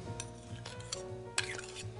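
A spoon stirs tomato and mustard together in a hot pot, soft scraping and occasional clinks against the metal, fairly close and quiet, with a faint sizzle underneath.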